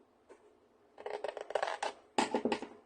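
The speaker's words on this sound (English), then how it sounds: "I want you to just cut straight up that score line." Scissors cutting straight up a score line in cardstock while making a card wallet or gift box, heard as two close bursts of crisp snipping and paper scraping after a faint tap, with no talk.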